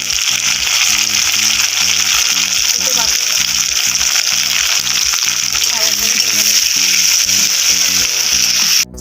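Tomato and onion frying together in a pan after cardamom and cumin, a continuous loud sizzle with stirring scrapes under a voice that keeps talking.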